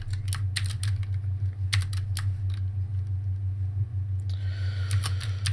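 Rapid typing on a computer keyboard: a dense, irregular patter of light key clicks, close and steady over a constant low electrical hum, with no voices.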